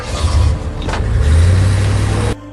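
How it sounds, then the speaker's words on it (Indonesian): A car accelerates away in a movie scene, its engine rising into a loud steady roar before cutting off abruptly. "kemudian ia tancap gas dengan mobilnya."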